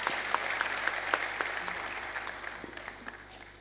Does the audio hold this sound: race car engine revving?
no